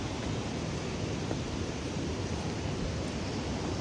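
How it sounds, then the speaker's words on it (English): A small waterfall giving a steady, even rush of falling water, continuous and moderately loud with no voices over it. "The little waterfall. Here's the waterfall."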